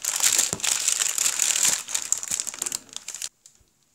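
Sheets of parchment baking paper crinkle and crumple loudly and up close for about three seconds while preparing a yogurt cake, then a few faint rustles follow before it goes quiet.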